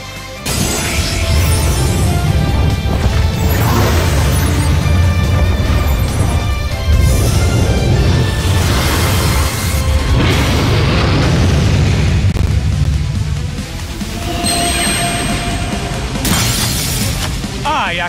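A trap card destroys Blue-Eyes White Dragon in Duel Links, giving a long stretch of loud shattering crashes and booming bursts layered over dramatic game music, with voiced talk throughout.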